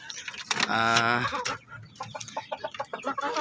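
Shamo stag chicken clucking up close, with a drawn-out harmonic call near the start followed by a quick series of short, clipped clucks.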